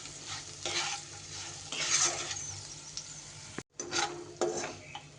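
White sesame seeds and spices stirred in a hot pan with the gas turned off, giving soft scraping, rustling strokes over a faint sizzle, with a brief pause mid-way before stirring resumes.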